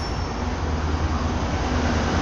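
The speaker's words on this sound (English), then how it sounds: "66172 freight train" A Class 66 freight train rolling through Cardiff Central station, a steady loud rumble of wheels and wagons passing close by with no break.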